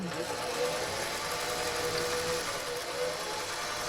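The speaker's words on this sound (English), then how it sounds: "with this sewing machine because I just think she'd do a better job" A sewing machine stitching a vinyl zipper pouch, a steady close mechanical whir with a fine rapid needle rhythm running continuously.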